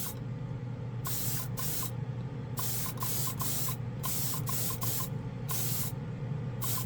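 An Iwata RG-3L airbrush spray gun hisses in a series of short, steady bursts as it sprays primer onto a spoon, loud and close with brief gaps between passes.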